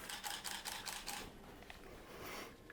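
A camera shutter set on a self-timer for a toy photography shoot fires about six quick clicks in a rapid burst, then falls into quiet room tone.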